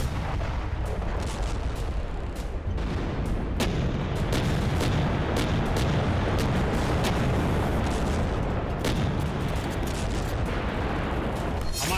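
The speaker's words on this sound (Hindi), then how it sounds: "टैंकों की जो गर्जना आप देख रहे हैं" Indian main battle tanks and artillery keep firing in a dense, continuous barrage of booms and cracks layered over heavy rumble, with sharp reports standing out throughout.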